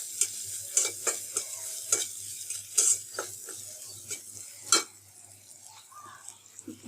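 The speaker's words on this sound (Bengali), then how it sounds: "তো এই মশলাগুলোকে একটু ভেজে নিতে হবে।" Ground spices frying in a pan for a fish roe dish, stirred with a metal spatula: a soft sizzle underneath repeated close scraping strokes at an uneven rhythm, no talking.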